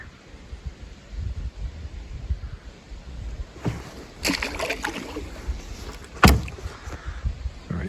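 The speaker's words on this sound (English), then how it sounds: "it's hard to paddle with one hand" Canoe paddled along the Yukon River in moose country, soft water swishes and a few sharp wooden knocks of the paddle against the hull, close by, with quiet gaps between strokes and no talk.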